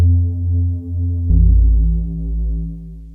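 A Serum synthesizer patch of resonant low-pass filtered oscillators with drive, a dense sustained buzzing drone that shifts to a fuller, deeper throbbing tone partway through, loud and alone.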